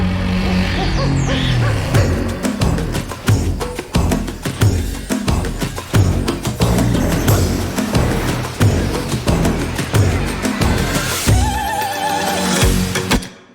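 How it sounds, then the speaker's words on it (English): Jungle bird calls and owl hoots layered into an electronic track, with animal cries riding over a loud, steady beat that runs throughout and drops out at the end. "Whole bunch of birds and stuff, so all together it just makes it sound like jungly."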